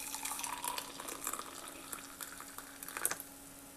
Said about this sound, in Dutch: Nou hoort hier kokend water overheen.